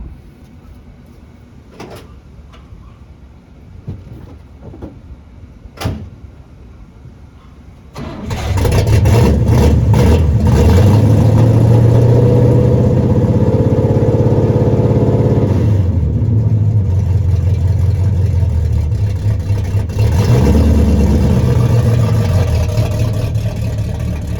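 A 1970 Chevelle engine starts with a loud rumbling burst after a few faint knocks, then idles and drives off, staying steady and close for over fifteen seconds.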